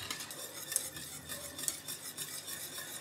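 A spoon stirs a thickening chocolate and cuajada mixture in a pot, giving faint, continuous scraping and swishing with a couple of light clinks, no voices.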